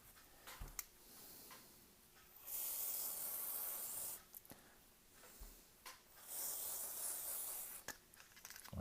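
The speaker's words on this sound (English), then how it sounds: "We're going to spray out the inside of it." DeoxIT contact cleaner sprays from an aerosol can into a BMW EVAP purge valve in short hissing bursts of about a second or two each, separated by small clicks and handling knocks, quiet and close.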